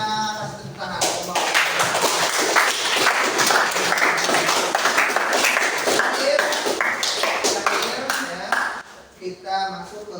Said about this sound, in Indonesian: Oke. Semuanya sudah presentasi, semuanya sangat bagus, semuanya kasih tepuk tangan.